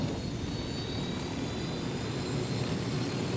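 A helicopter in Ghost Recon Wildlands drones steadily, a dense, constant engine roar with no breaks or voices over it.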